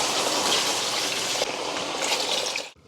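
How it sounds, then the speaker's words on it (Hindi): About three glasses of water poured into a mutton karahi (khada masala mutton) in a pan, a close, steady gushing splash that briefly breaks, resumes, then cuts off. "अब हमने यहाँ पे तकरीबन 3 गिलास पानी जो है वो शामिल कर देना है"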